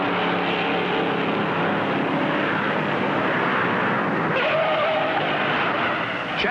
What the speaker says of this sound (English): Shannon, number 15, Pontiac, spins in the same unlucky turn